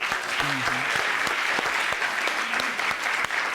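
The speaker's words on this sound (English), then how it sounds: "What you clapping for?" Dense applause from a small group fills the whole stretch, with brief voices breaking through now and then.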